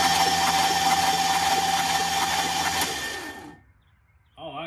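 An old engine that has sat a long time is cranked over, churning loudly for about three seconds before stopping, followed by a brief pause and a short whirring noise.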